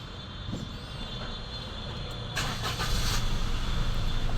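A Maruti Suzuki Celerio with an automatic gearbox fault cranks and starts. The engine catches partway through and settles into a steady, moderately loud idle, with no talking.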